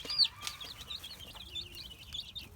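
Hens kept in their own space in a coop give soft, scattered clucks and a few higher calls at moderate distance, with light background rustle.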